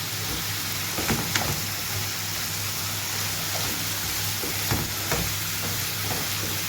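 Onions and peppers fry in a pan for chicken fajitas with potatoes, a continuous hissing sizzle with a few soft utensil taps and stirs, no talking.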